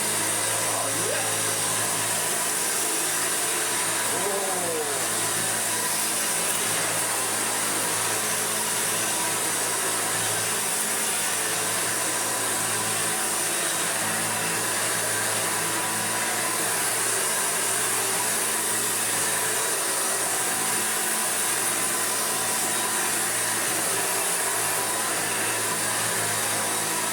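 An Electrolux vacuum cleaner runs steadily for the whole stretch, a loud, constant motor whine and rushing airflow with no break.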